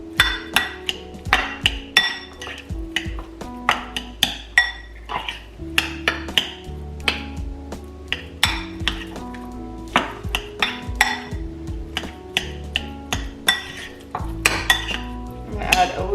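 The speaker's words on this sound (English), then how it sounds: "Start mixing that together." Mashing and mixing avocado with salt and pepper in a bowl makes repeated ringing clinks and taps of a utensil against the bowl in an uneven rhythm, with a soft squish under them.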